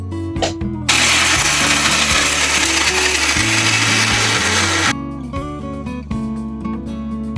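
A kitchen mixer grinder whirs loudly and steadily for about four seconds, grinding a chutney of dal, green chili, ginger, cumin and coriander, then cuts off. Background music plays before, under and after the grinding.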